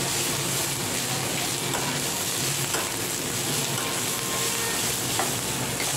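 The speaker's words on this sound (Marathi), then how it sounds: "कांदा छान असा लाल होईपर्यंत चांगला मस्त भाजून घ्यायचा" Onion frying in a pan, a steady, close sizzle that holds even and unbroken throughout, with faint occasional stirring scrapes and no talking.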